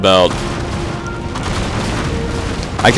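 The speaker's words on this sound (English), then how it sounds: "I have designated this mass over here for artillery fire. And here it comes." Artillery explodes on a massed enemy formation in a strategy video game, giving a loud, continuous rumbling barrage of booms and crackling blasts that swells again at the end.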